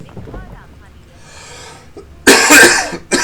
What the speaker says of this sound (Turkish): Öksürdüğüm için çok özür dilerim.